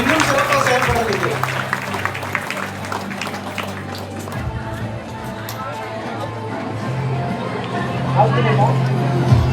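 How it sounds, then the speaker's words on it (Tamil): Audience applause at a local community gathering, a dense steady wash of clapping hands under crowd babble, with a low droning hum running beneath throughout. "நல்ல கைத்தட்டலோட அவங்கள வாழ்த்துவோம்."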